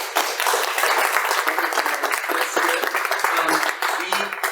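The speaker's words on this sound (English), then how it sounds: "Please give her a round of applause." An audience at a Slow Food Nations panel in Denver gives a dense, sustained round of applause for a panelist, with a few brief voices rising over the clapping.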